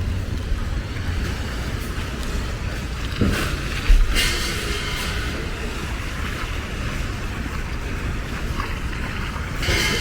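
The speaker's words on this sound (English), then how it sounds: "Here comes a boat right now." A resort ferry boat engine rumbles on the river at Disney's Port Orleans Riverside with wind buffeting the microphone, the steady drone swelling slightly as the boat passes.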